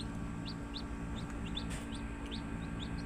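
Hens cluck in short, repeated bursts against a steady farmyard hum, several birds calling close by in an irregular rhythm.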